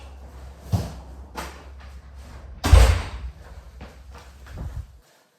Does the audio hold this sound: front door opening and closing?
yes